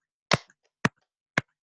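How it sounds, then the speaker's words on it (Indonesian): Three sharp, crisp claps spaced evenly apart, each brief and distinct against near silence. "Kita tepuk-tepuk dulu."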